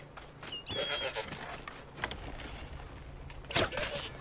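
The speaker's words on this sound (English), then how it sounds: "What's your deal, Mr. Goat?" A goat bleats in Assassin's Creed Origins amid a setting strewn with dead creatures, giving a couple of brief calls near the start and again toward the end over low game ambience.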